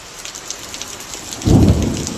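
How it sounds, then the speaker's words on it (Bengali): Steady rain pours outside a house during a storm, a dense even hiss, with a deep low rumble swelling in about halfway through and lingering to the end. "এই মুহূর্তে বৃষ্টি হচ্ছে"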